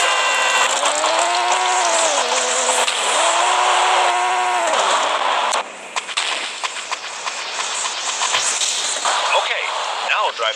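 A car in the mobile video game Payback 2 drives through a city, its engine whining up and down in pitch as it revs and shifts, then giving way to rattling, clattering driving noise.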